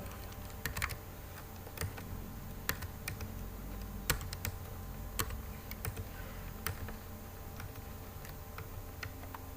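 Steady typing on a computer keyboard, key clicks at an even pace, close and fairly quiet with no talking.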